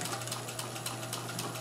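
Singer sewing machine fitted with a blind stitch attachment running steadily while sewing hems, a fast, even mechanical ticking and whirring at close range with a constant motor hum underneath, no talking.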